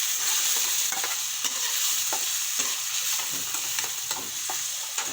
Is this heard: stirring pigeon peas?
yes